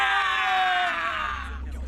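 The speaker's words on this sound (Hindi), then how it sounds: "शायद मरने वाले ऐसे ही चिल्लाते हैं।" A long, sustained scream from dying people, a single high wailing cry that slowly falls in pitch and fades over a low rumble, sounding somewhat distant.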